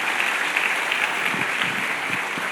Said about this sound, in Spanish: Dale otro fuerte aplauso de gloria a nuestro Dios.